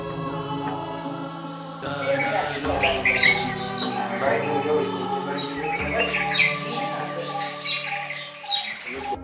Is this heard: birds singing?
yes